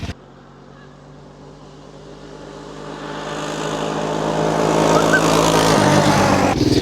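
A barn-find three-wheeler with long-flat tires on a top speed run, its engine droning steadily and rising in pitch and loudness as it speeds up, then cutting off abruptly at the end.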